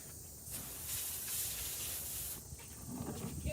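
A hose or sprayer hisses in a steady wet rush as water is sprayed across a porch to dislodge a big spider, rising for about two seconds and then fading into rustling.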